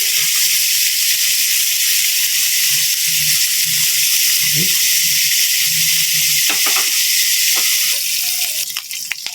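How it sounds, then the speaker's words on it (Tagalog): Finely chopped meat browns in a pan for a sautéed vegetable dish, giving a loud, constant close-up sizzle with a few light clicks and scrapes near the end. "Papupulahin ko lang to ng bagya para makuha natin yung magandang kulay ng ating karne"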